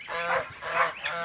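Roosters, two gamecocks, fighting and squawking loudly in a backyard flock, with three harsh honking calls in quick succession up close and no talk over them.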